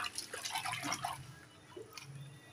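Pieces of fish being rinsed in water for a Godavari-style fish curry, with dripping and splashing and small pours, close and fairly quiet, fading toward the end.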